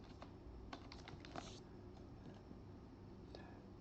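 Quiet keystrokes on a computer keyboard, a short burst of several quick taps followed by a few scattered presses over a low background hum.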